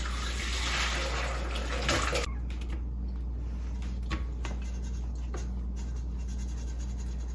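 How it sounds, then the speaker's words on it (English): Boiled potatoes and their hot water are dumped into a kitchen sink: a loud, close rush of pouring water for about two seconds, then quieter trickling and scraping. "And then we take it to the sink and we dump it in."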